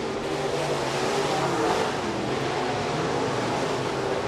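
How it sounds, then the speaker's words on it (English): USRA B-Modified race cars in a heat race at Rapid Speedway, their engines producing a loud, continuous roar that swells slightly as the pack passes close by, with no talking. "Heat race number 1 of 3 for the USRA B-Modifieds"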